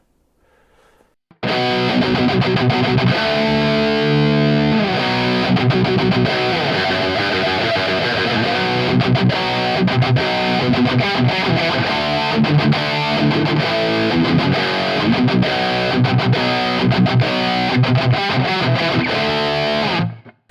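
Electric guitar played through an Origin Effects M-EQ Driver overdrive pedal with boosted mids and slight drive, starting after a brief quiet moment and then loud and continuous with distorted lead notes until it cuts off at the end.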